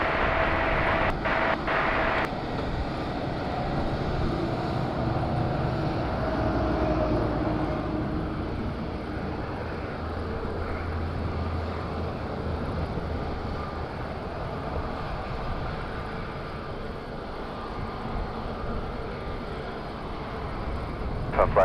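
A TUI airliner from Brussels approaches Madeira airport, its distant jet engine a steady broad rumble that holds and slowly fades, with wind buffeting the microphone early on.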